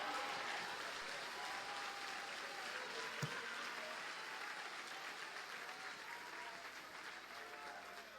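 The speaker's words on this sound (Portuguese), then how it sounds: "Quem pode aplaudir, adorar a Ele?" A church congregation applauds in worship during a sermon, a fairly quiet, steady wash of many hands clapping heard from a distance and lasting throughout.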